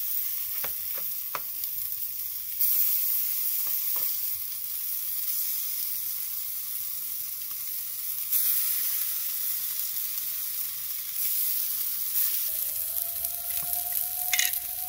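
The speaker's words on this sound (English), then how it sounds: "at that point I definitely want to get the scallops on there, get those seared up" Scallops sear on a Kamado Joe grill with a steady, close sizzle that holds throughout, a few faint clicks and a rising tone near the end sitting over the hiss.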